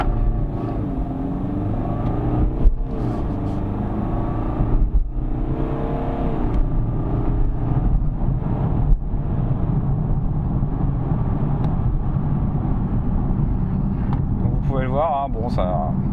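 A BMW 4 Series Gran Coupé 418d diesel with M package accelerates from 0 to 100 km/h, its engine droning as a steady, moderately loud rising rumble heard from inside the cabin, with a voice speaking over it.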